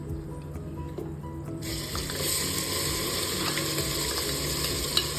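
Chopped onions hit hot oil in a pressure cooker on a low gas flame, a soft steady sizzle that swells after the first second and carries on evenly, with faint clinks.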